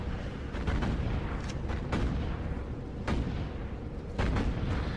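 Battleship guns firing in rapid succession during a naval battle in the game Battlestations Pacific, heavy booming blasts rolling over one another loudly amid continuous rumbling combat noise.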